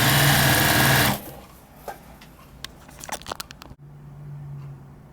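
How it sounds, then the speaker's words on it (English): A sewing machine stitches binding onto a baby quilt: a loud, steady whir for about a second, then stops, followed by close clicks and handling of fabric and a brief soft hum. "put my foot down and start sewing again"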